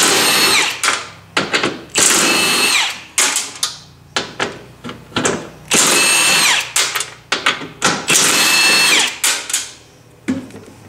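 On a Jeep JT, a power tool with a 13 mm socket spins out the bolts holding a steel bumper plate. Loud, close, repeated bursts of whirring and ratcheting come, each several seconds long, separated by short pauses.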